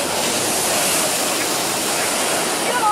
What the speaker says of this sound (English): And the sea is not very happy this morning.